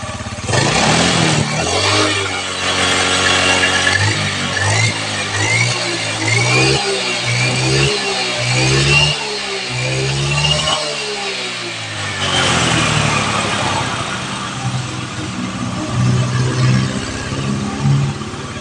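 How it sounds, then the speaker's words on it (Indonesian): A carbureted Honda Beat scooter engine runs smoothly and loudly up close. It holds a steady drone, then gives a series of short revs that rise and fall before it settles back to an even idle. "Suara mesin halus"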